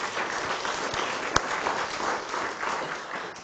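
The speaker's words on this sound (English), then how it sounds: "let's give Maggie a round of applause for her efforts" Steady round of applause from an audience at a physics conference welcome session, continuous clapping with one sharp knock partway through and no voices over it.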